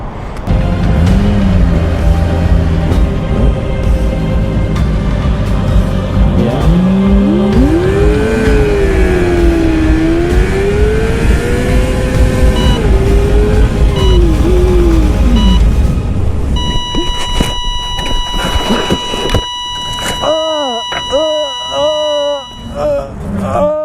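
A Honda CBR 600RR sport motorcycle races buddies on a public street, its engine screaming loud and close with rising and falling revs, then a sudden harsh scraping clatter and broken noise as the bike high-sides and crashes.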